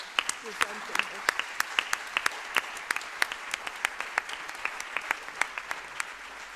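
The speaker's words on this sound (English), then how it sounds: "I think we can have a big clap for all the nice work you did presenting it" A conference audience gives a sparse, moderate round of applause for the speakers, with individual claps standing out sharply over a softer bed of clapping and a few quiet voices.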